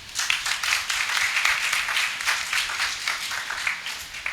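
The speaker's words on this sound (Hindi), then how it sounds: "भाई के लिए ताली जरूर लगाए" An audience at a lecture breaks into steady applause, many hands clapping in a dense, even patter that holds for several seconds without voices over it.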